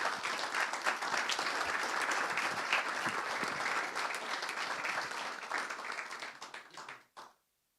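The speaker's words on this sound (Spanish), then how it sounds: "Démosle un fuerte aplauso al Señor." A church congregation bursts into strong, dense applause, many hands clapping steadily for about seven seconds before tapering off and stopping abruptly, with no voices over it.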